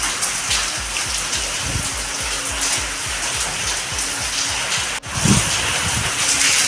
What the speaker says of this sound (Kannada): ಎಷ್ಟು ಜೋರು ಬರಾಕತ್ತೈತ್ರಿ ಮಳಿ ಈಗ ಗಾಳಿ ಬಿಟ್ಟೈತ್ರಿ